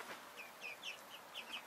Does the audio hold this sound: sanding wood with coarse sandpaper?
no